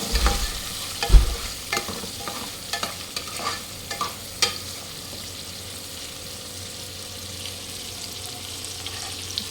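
Large tiger prawns frying with onions and chilli for a Godavari prawn biryani: a close, continuous sizzle with a few loud knocks and scrapes from stirring early on, then settling into an even hiss.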